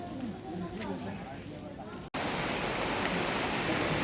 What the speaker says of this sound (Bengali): দেখেন কি সুন্দর রিমঝিম বৃষ্টি পড়তেছে, আর বৃষ্টির শব্দটা এত ভালো লাগতেছে বলার মতো না